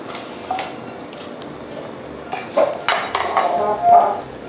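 Beef being added to boiling coconut milk in a pot, with clattering of a utensil against the pot rim and a short burst of bubbling and stirring toward the end, close by with no talk.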